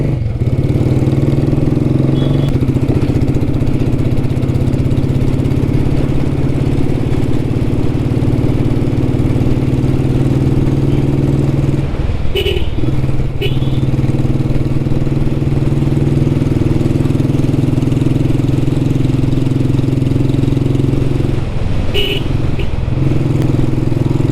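A vintage Royal Enfield Bullet motorcycle engine runs during a test ride with a loud, steady, close thumping drone throughout, plus a couple of brief rattles partway through.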